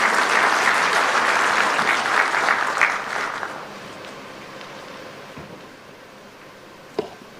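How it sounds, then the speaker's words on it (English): Audience applause at an investment conference in Murang'a, Kenya, as a keynote speaker is welcomed: sustained clapping from a large crowd that swells, then gradually thins and fades out over several seconds. "Can we clap for Dr. James Mwangi"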